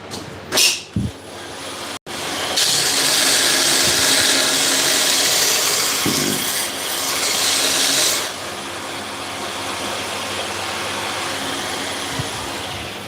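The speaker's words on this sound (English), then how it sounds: "I'm going to blunt this again" A freshly made knife blade has its edge blunted. A few knocks come first, then a loud, steady abrasive hiss holds for several seconds before dropping to a quieter, continuing grind.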